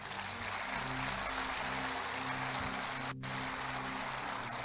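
A church congregation claps in a steady, fairly loud wash of applause over low sustained musical tones, broken by a brief pause partway through.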